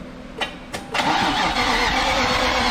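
Nissan Skyline engine being cranked by its starter, two short bursts followed by continuous loud churning as it turns over, close by and with no talk.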